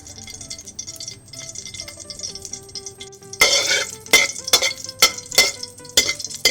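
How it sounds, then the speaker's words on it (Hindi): Cardamom goes into hot ghee for sheer khurma, starting with a quiet hiss and then loud, irregular stirring clatter and scraping of a spoon against the pan. "गर्म हो जाए तो इसमें इलायची डालूंगी।"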